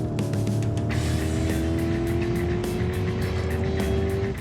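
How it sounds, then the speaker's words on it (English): A fast car speeds past on a wet road in the rain, a loud steady engine roar with a rising whine holding close throughout, no voices. "Whatever the car that flew past was"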